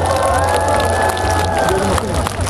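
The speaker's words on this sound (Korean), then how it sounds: "우리 그 수고하신 분들께 다시 한번 큰 박수 보내드리면서" A festival audience at a singing contest, the Hwadojin Festival, applauds and cheers the contestants: a loud, dense, unbroken roar of clapping and shouting with a steady low hum underneath.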